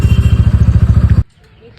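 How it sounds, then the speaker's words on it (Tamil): A TVS Ronin 225 motorcycle engine idles with a loud, rapid, even thumping beat, then cuts off abruptly into near silence. "இன்ஜின் சவுண்டு ரெடியூஸ் ஆகிடுச்சு, பீட்டும் வந்து அதிகமாகிடுச்சு"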